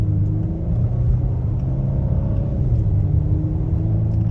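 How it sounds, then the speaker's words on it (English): A 2022 Volvo XC90 SUV engine pulls steadily under load, a deep continuous rumble with a faint turbo whistle riding on top, heard from inside the car. "you hear a slight amount of like turbo whistle in there too"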